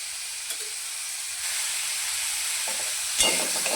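Tomatoes fry in half a spoonful of oil for a cashew paneer dish, making a steady, soft hiss and sizzle up close, with a brief louder crackle near the end.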